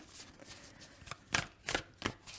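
Animal oracle cards are shuffled and drawn, giving several soft riffling bursts at irregular intervals, close and fairly quiet, with no voice.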